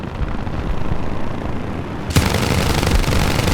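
Aircraft machine guns fire in a War Thunder air arcade dogfight: a dense, continuous roar of rapid fire that swells abruptly louder partway through and stays harsh and close to the end, with no talking.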